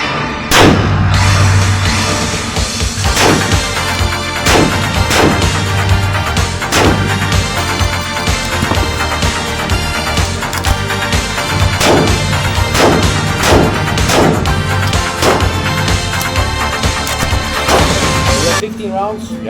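Firearms fire at a shooting range in the Czech Republic: a long series of loud, close, sharp shots at a fairly regular pace, with voices talking faintly underneath.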